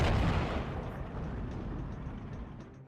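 A heavy cannon blast from the video game Steel Division 2, a T-34 tank firing in a World War II battle, booms loudly at the start and then rumbles away into a long fading roll of distant battle noise.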